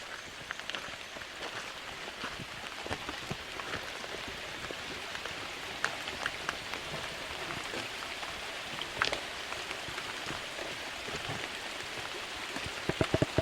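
Steady outdoor rain falls continuously, a dense even hiss of drops with scattered louder patters on nearby surfaces, no voices.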